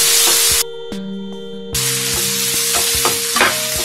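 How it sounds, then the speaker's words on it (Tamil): Chopped tomato frying with ginger-garlic paste in a pan for an egg pepper roast, giving a steady close sizzle with scraping stir strokes and a short muffled pause partway through, and no voices. "ஒரு தக்காளி சின்னதா நறுக்கி வச்சிருக்கேன் அதை ஆட் பண்றேன். தக்காளி நல்லா வதங்கணும்."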